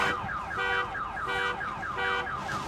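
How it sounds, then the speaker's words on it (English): A car alarm blares nearby, cycling a sweeping electronic tone over and over in a fast, steady loop. "Deactivate the car alarm"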